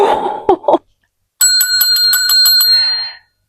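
A bright bicycle-style bell rings in a quick run of about eight metallic dings, close and clear, ending in a brief lingering ring, after a few short spoken syllables and a moment of silence.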